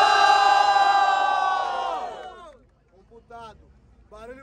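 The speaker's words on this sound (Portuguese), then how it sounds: "Barulho pra quem gostou das rimas de Black Panther" A crowd at a Brazilian freestyle rap battle final roars and cheers loudly for an MC for about two seconds, then the noise fades, followed by a few scattered shouts.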